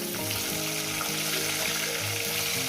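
Fish frying in a pan for a home-style curry, a dense, close, continuous sizzle and crackle with no voices, steady throughout as the pieces cook.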